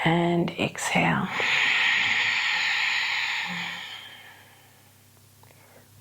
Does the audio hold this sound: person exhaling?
yes